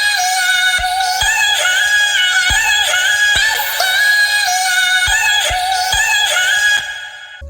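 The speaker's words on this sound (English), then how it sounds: "crank that shiz up a whole octave and make some vocal chops that sound a little something" Bright, high-pitched vocal chops pitched up an octave play in a steady rhythmic pattern over sparse future trap beats, ending with a short fading tail.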